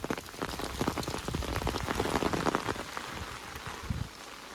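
Steady rain pattering onto surfaces outdoors at night, dense and close with continuous drops hitting throughout, slightly easing toward the end.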